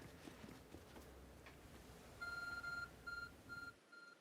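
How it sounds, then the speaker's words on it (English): A glowing, phone-like object beeps in Pokémon Legends: Arceus, giving a few short electronic tones in an uneven pattern over soft footstep-like game ambience. "There's a glowing, beeping object over there."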